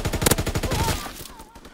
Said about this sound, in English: I'm shooting at another person